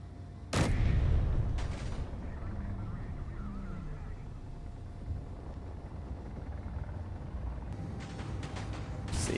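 Gatling guns fire at a ship in Space Engineers: a sharp loud burst early on, then a steady engine-like rumble, and a renewed rattle of rapid shots near the end.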